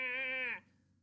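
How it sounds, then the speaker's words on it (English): A single young Steller sea lion pup lets out a short, bleating goat-like call, close and clear, fading into quiet. "the pups sound like little goats"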